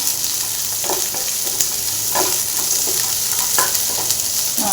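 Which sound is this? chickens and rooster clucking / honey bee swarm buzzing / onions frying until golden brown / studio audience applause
onions frying until golden brown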